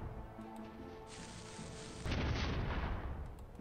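A cannon fires in the Enclave video game, a sudden loud burst of booming gunfire that swells and holds for over a second, set against steady game background sound with no talking.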